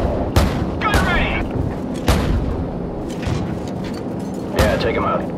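Heavy gunfire and booming explosions from Call of Duty 4: Modern Warfare, with several loud blasts spaced apart under radio chatter and talk.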